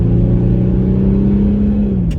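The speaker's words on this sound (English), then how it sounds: "So we're gonna do a little bit of an acceleration run, but it's a Jeep, right?" Jeep Grand Cherokee diesel with a Mercedes ML engine accelerating, a steady loud low engine drone with harmonics rising slightly in pitch, heard close from inside the vehicle.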